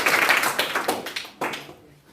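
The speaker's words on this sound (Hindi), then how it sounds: "करिश्मा के लिए ताली बजाइए" Children in a classroom clapping for a classmate, a short burst of scattered hand claps that thins out into a few separate claps before fading.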